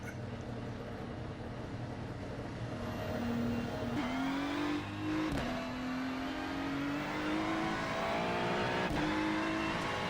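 Engine of a GT3 race car at Sebring in the iRacing sim drones continuously, rising in pitch through gears with brief shifts, moderately quiet and steady with no voices.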